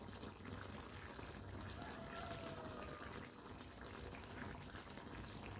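Soft, steady bubbling of coconut milk simmering in a pot, quiet and continuous with a faint background hum.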